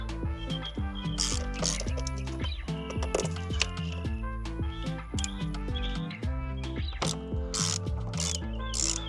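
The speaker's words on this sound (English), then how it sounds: "we are going to take a 10 millimeter and we are going to start cracking intake manifold bolts out" A 10 mm ratchet clicks rapidly and continuously while loosening intake manifold bolts during a PCV plate and catch can install, with dense, close mechanical pawl ticking and a few higher metallic squeaks.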